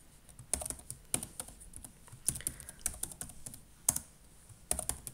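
Quiet, irregular clicking of keys on a computer keyboard as a password is typed on a home Ubuntu server, with a few sharper key strikes standing out.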